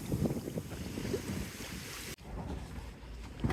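A sailboat on a broad reach at about 6 knots rounding Cape Scott off Vancouver Island's west coast: steady wind rushing over the microphone with water washing past the hull, a brief dip midway.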